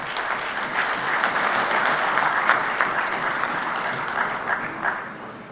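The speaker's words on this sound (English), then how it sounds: "Let's give the ambassador a big round of applause." An audience at the official launch of Zimbabwe's African Peer Review Mechanism applauds the ambassador, a loud sustained wash of clapping from many hands that swells and slowly tapers off.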